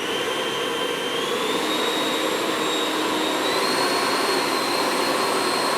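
A Horizon Hobby F-18 Blue Angels model jet with an 80mm electric ducted fan whines steadily and loudly during a throttle test, its high-pitched tone rising slightly partway through, with no voices.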